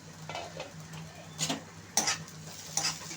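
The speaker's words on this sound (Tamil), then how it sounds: "வெங்காயம் நல்லா வதங்கிருச்சு" Chopped onions sautéing in a pan for a drumstick and brinjal kuzhambu: a faint, low sizzle broken by a few sharp clinks and scrapes of a spoon stirring against the pan.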